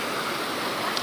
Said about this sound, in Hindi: ये नदी आ रही है ऊपर से हेमकुंड से